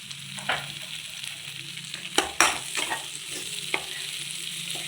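Capsicum cooking soft over a low flame in a pan, a quiet continuous sizzle broken by a few spoon scrapes and knocks against the pan, with one sharper clatter mid-way; no voices.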